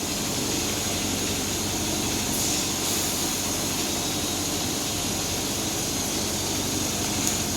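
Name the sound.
electric ICU home care bed motor lowering the bed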